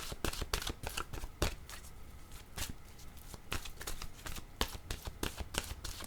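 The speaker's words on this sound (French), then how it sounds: "Je vais demander maintenant une carte de mon oracle de l'âme intuitive." Oracle cards being shuffled by hand, a quiet, close riffling and slapping of card stock in quick irregular bursts throughout, with no talking.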